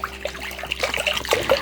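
Bottled water is poured in a pottery studio, giving a soft, close trickle and splashing with bright little gurgles. It runs steadily for under two seconds with no talk over it.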